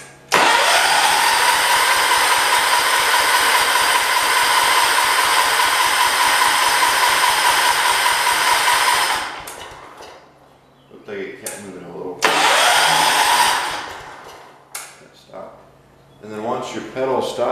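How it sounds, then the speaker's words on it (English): A 1979 John Deere 214 lawn tractor's engine cranks over in a long, loud, steady rhythmic grind, then stops and briefly cranks again among short pauses. "Let me crank this until my pedal stops moving."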